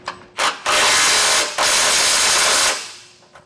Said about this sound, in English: I'm gonna go back and tighten them the rest of the way. The top one is gonna get a 3/4 socket.